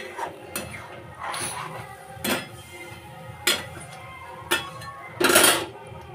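A metal spoon clanks and scrapes against a pot as spices with ginger, onion and tomato paste are sautéed for biryani, with a handful of sharp, irregular knocks over a low background and no talking.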